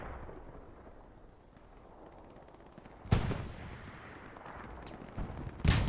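Anti-tank gun firing on a heavy tank in the WWII shooter Hell Let Loose, Kursk map: two heavy, booming shots, one midway and one at the very end, over a low rumble of battle ambience.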